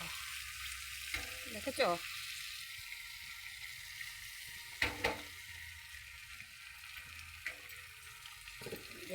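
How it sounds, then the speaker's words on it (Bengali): An egg fries in a pan in a home kitchen, giving a steady low sizzle with a few sharp clinks and scrapes of stirring, and a voice speaks briefly over it. "এই যে ডিমটা ভাজছি"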